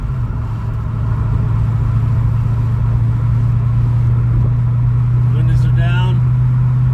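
A car with a stock speedometer cruises in fifth gear, its engine a steady low droning hum with road rumble heard from inside the cabin. The drone holds constant throughout, and a voice speaks briefly near the end.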